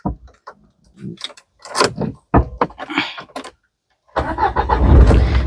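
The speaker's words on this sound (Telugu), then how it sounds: "ఈ కారు సింగిల్ సెల్ఫ్ లో స్టార్ట్ అవుతుందా లేదా అన్నది ఒకసారి స్టార్ట్ చేసి చూపిస్తాను" A 2014 Nissan Terrano XV turned over with the key, with a brief cranking burst and then a steady engine note that starts and runs on one try after several clicks and knocks.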